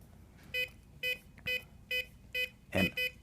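A SafeLogic safe lock keypad gives a run of seven short electronic beeps, evenly spaced and clear, with only a faint click between them and no voices.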